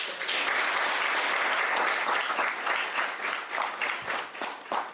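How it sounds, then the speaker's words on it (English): An audience gives a round of applause at an arts event on Black photography in New York City, loud, dense clapping from many people that holds and then begins to thin toward the end. "Another round of applause, please."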